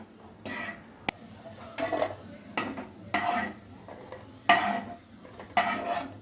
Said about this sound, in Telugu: జీడిపప్పు కిస్మిస్ ఇలా నేతిలో వేయించుకోవాలండి